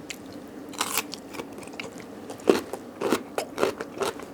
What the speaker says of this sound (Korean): 무를 또 한 조각 먹어보겠습니다.